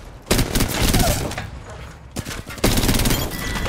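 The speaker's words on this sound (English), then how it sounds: "We're getting shot from where we were." Gunfire in the Apex Legends video game, bursts of rapid automatic shots in two loud volleys with a short lull between them, close and dense.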